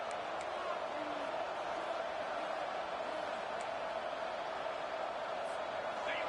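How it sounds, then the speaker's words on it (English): At a Georgia versus Utah college football game, the stadium crowd keeps up a steady, dense roar on a big third down, a continuous wash of noise with no clear peaks. "The crowd elevating its energy, willing this defense to get a stop on this big third down."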